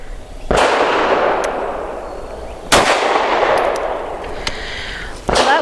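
Three loud, close pistol shots from a Steyr M9-A2 MF fire at uneven intervals, each one a sharp crack followed by a long, ringing outdoor decay that fades slowly before the next report.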